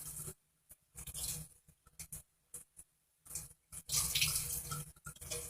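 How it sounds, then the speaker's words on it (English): A running tap rinses a makeup sponge under the stream, bursts of splashing water broken by short pauses as the sponge is moved in and out of the flow, close and fairly loud with no talk. "I'm going to run this under the water"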